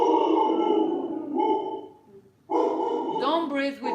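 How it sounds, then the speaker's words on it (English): A dog barks indoors during a live singing lesson, its sharp yips coming near the end after sustained tones and a short pause. "Sorry for my dog."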